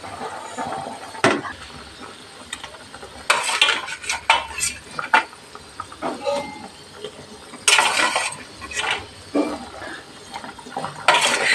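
Fried shol fish is stirred into boiling curry in a pan, with close metallic clinks and scrapes of a utensil coming in uneven bursts over a low simmer.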